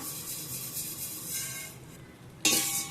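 Vermicelli frying in ghee for semiya payasam, a steady close sizzle with stirring scrapes and a sudden louder burst near the end.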